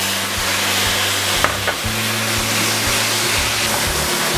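Tomatoes are added to onions frying in a pan, giving a loud, steady sizzle with a couple of sharp clinks and stirring noises partway through.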